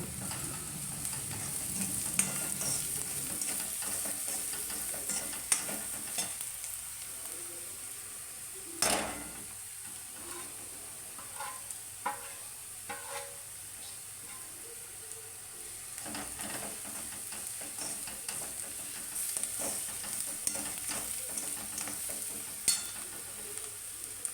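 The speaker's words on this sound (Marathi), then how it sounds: "आपण सर्व जे मसाले काढलेले आहेत म्हणजे लाल तिखट धने पावडर हळद हे सर्व त्याच्यात टाकून घेणार आहोत" Ground spices such as red chili powder, coriander powder and turmeric sizzle in a pan while being stirred, with soft steady frying and intermittent scraping and clinks of a spoon against the pan, no voices.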